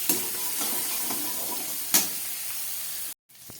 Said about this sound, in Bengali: এবারে দিয়ে দিচ্ছি গ্রেট করা আদা।